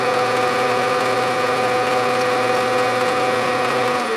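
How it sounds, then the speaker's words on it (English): A sensitive drill press, running slow at about 1,700 RPM, drills a hole in brass with a steady, continuous whirring and faint grinding hum, close and even throughout with no talking. "so let me drill that hole."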